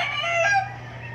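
Brood hens being readied for breeding with a gamefowl brood cock, a single close drawn-out cackle or crow with a steady low hum behind it.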